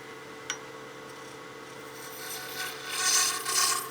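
A spindle roughing gouge cuts a honeycomb blank spinning on a wood lathe. A soft whir with a small tap gives way to a rasping, scraping cut that swells louder in the final seconds.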